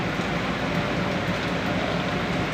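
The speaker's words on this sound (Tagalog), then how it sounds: "Sobrang lakas ng ulan." Heavy storm rain pours steadily in Mariveles, Bataan, a dense, continuous broadband hiss with a low rumbling undertone, loud and unbroken throughout.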